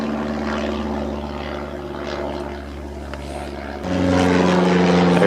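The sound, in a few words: propeller airplane circling overhead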